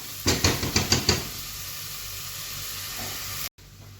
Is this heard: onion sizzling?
yes